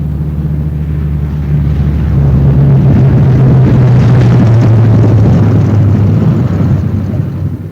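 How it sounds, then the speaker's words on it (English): A WW2 bomber arrives at an airfield, its piston engines a loud, steady, close drone that swells toward the middle and eases slightly at the end, with no talk. "36 planes left this field this morning. Now 6 more arrive."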